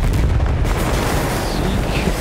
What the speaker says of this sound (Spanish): Se va a explotar.